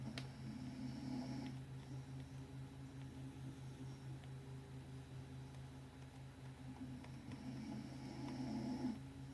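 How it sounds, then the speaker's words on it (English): A person snores softly in a quiet room, with slow rhythmic breaths that rise and fall over several seconds. The snoring is faint and steady against a low background hum. "Snoring away."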